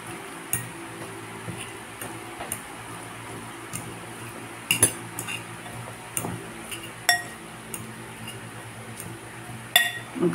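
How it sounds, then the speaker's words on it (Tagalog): Knife slicing sausage for a healthy cucumber snack, with light clinking taps against the cutting surface repeating irregularly at close range, and no talk. "Mag-slice muna ako ng aking sausage."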